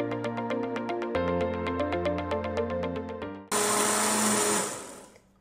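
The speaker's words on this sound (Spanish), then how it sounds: "Voy a tapar y voy a licuar hasta hacer un puré con mis guayabas." After a plucked musical tune, a kitchen blender roars loudly while pureeing guavas with water for about a second and a half, then winds down and fades.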